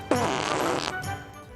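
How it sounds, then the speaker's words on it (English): A comedic fart sound effect from a video game, one loud, wet, sputtering burst about a second long, followed by a few fainter trailing blips. "Oh, fart noises."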